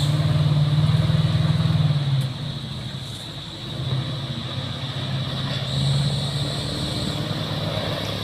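Aircraft engine drone as a plane comes in to land, a steady propeller-like hum that swells and eases in waves, heard at a moderate distance.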